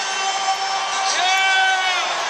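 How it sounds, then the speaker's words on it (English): NBA arena crowd, Celtics versus Cavaliers, roaring just before tip-off, a loud continuous wall of cheers and whoops with a few higher shouts cutting through. "this crowd is already at a fever pitch as we get ready to tip things off"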